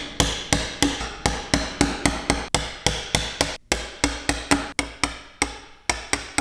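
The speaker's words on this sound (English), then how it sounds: "I'm just gonna roll the chisel up and complete that." A chisel struck by hand chops a hand-cut dovetail joint in wood, sharp loud knocks in a steady rapid series, about three blows a second, with one brief pause midway.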